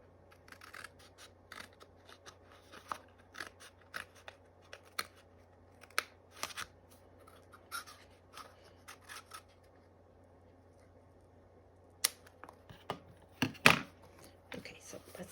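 Scissors snip a paper memo notepad in scattered, sharp cuts, close and quiet, with soft handling rustles between them and a louder cluster of snips near the end.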